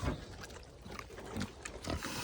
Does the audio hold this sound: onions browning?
no